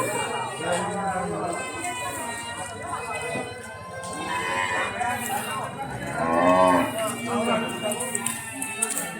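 Cows moo loudly and repeatedly at a rural Bangladeshi cattle market, long drawn-out lows rising over a busy crowd of talking voices and shuffling hooves.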